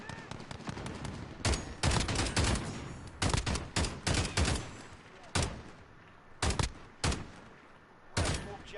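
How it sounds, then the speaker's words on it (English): Covering gunfire from the video game Call of Duty: Modern Warfare during a flag capture, with sharp bursts of rapid shots repeating in clusters, loud against quieter gaps. "we provided some good covering fire for that flag capture"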